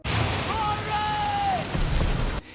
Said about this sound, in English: It was raining hard outside